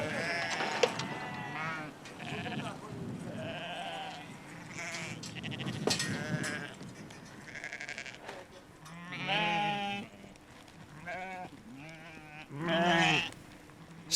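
Sheep in Scotland bleat repeatedly, several calls rising and falling at moderate distance, some loud and wavering, with quieter gaps between them.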